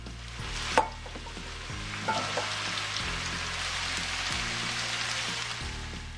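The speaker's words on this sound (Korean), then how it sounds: "팬에 기름을 충분히 두르고 양파를 볶아주세요." Onions fry in plenty of oil in a pan with a steady, crackling sizzle like light rain, interrupted by a couple of sharp knocks and scrapes of stirring near the start, with no talk.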